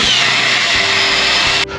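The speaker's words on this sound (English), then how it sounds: "drill my next hole" A power ice auger bores steadily through frozen lake ice while ice fishing for perch, a loud continuous whine that cuts off sharply near the end.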